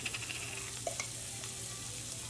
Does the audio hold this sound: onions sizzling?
yes